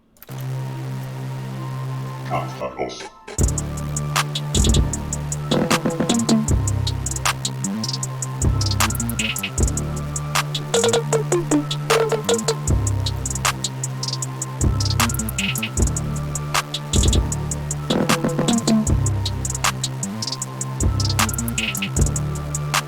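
Two 808 bass melodies of a hip-hop beat play together over drums, a steady, dense loop with deep sustained bass notes and regular sharp hits, loud and continuous for over twenty seconds, with no voices.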